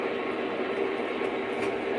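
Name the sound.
train with GP30 locomotive and caboose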